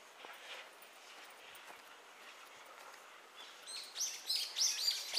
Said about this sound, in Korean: 새소리도, 허허, 좋다.